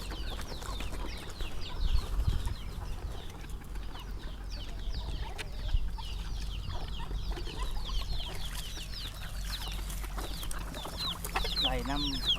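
Chickens clucking on a farm in Laos, with ducks kept nearby: many steady, overlapping clucks and short calls go on throughout, medium distance, over a low background rumble.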